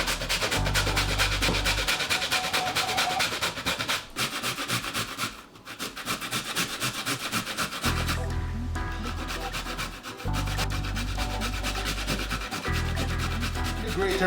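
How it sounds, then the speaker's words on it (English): Cassava is grated by hand on a grater in repeated rough rasping strokes, close and loud, with brief pauses between bursts of scraping and no talking. "And there is easy way to grate it. You keep on turning your cassava as you go."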